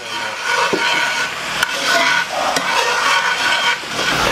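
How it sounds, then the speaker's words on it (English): Whiskey splashes into a hot pan of fully cooked shallots for a steak pan sauce, giving a steady close sizzle with scraping and stirring through the whole stretch and a couple of sharp clicks. "now that the shallots are fully cooked, we're going to go ahead and add our whiskey"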